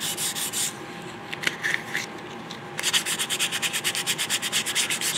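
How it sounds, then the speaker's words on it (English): Sandpaper rubbed by hand over a wooden pistol stock from a Plains Pistol kit, close up: irregular strokes at first, then a steady rhythmic run of quick rasping passes, with no talking. "Switching up my placement on the sandpaper."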